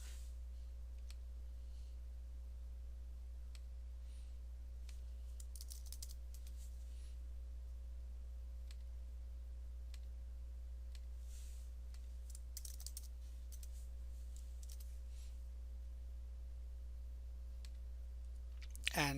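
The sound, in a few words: typing an answer on a computer keyboard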